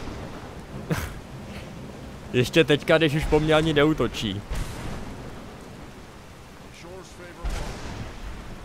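Crackling lightning spell strikes from the video game Skyrim burst in a brief loud cluster, with someone talking over and between the magical zaps.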